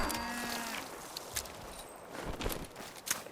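Brahmin cattle lowing in the video game Fallout 76, a short moo near the start followed by scattered footstep-like thuds and game ambience, with no talking.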